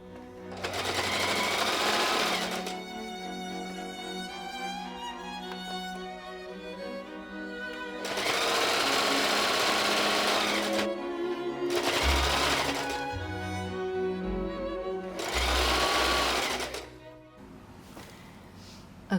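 A sewing machine stitching the seam joining a dress waistband to the bodice, running in four loud, close bursts of fast rhythmic whirring and clatter separated by quieter pauses.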